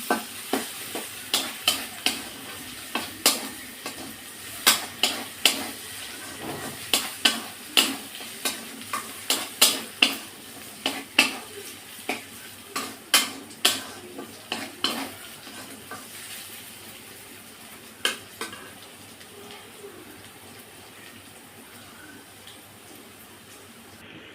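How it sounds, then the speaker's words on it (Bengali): Dried red chili spice paste fried in a pan for a mola fish dish, stirred with a metal spatula that strikes the pan in a rapid, rhythmic run of sharp clacks over a soft sizzle, then slows and tapers off. "শুকনো লঙ্কা বাটা দিয়ে মশলাটা দিয়ে সুন্দর করে এটা কষিয়ে নেবো"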